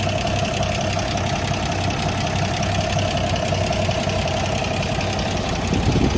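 An inline-six engine in a 1979 Toyota Land Cruiser FJ40 idling steadily up close, with a continuous rumbling drone, even ticking and a belt-driven fan whirring along throughout.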